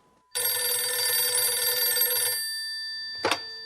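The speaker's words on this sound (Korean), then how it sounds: "트레비라누스 경찰국장 사무실 전화벨이 울렸다" A telephone bell rings loudly once for about two seconds, then falls silent before a brief clatter.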